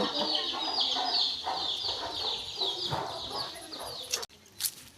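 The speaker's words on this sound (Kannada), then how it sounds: "ಪುಟಾಣಿ ಕೋಳಿ ಮರಿಗಳು" High, chirpy peeping and clucking from chicks on a village farm carries on steadily throughout, with a brief sharp noise near the end.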